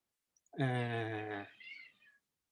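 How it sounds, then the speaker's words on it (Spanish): A cat gives one long, clear meow close up, a drawn-out wail that trails into a softer falling tail, then quiet. "el gato llorón"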